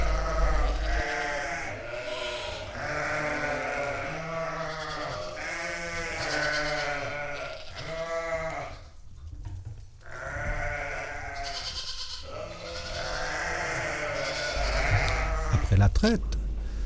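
Sheep bleat repeatedly in quavering, harmonic calls on a Vosges farm where ewe's-milk cheese is made, loud and close, with a brief lull midway and low background rumble.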